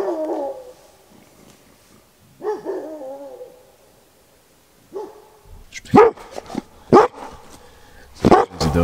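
A dog sounding off at night at a winter solo campsite in a rainstorm, several sharp barks and yelps: a few spaced calls early, then a louder burst of close, rapid barks toward the end.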